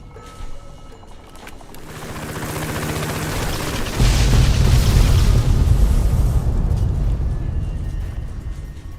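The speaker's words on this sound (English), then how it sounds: "Calling an airstrike." Airstrike explosions in Fallout: New Vegas (Tale of Two Wastelands mod): a loud sustained roar of blasts that swells heavily at around four seconds and rumbles on, with deep low booms fading slowly toward the end.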